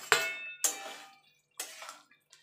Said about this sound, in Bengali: এবার এখানে যে ফুলকপি আলুটা ভেজে রেখেছিলাম সেটা আমি দিয়ে দেবো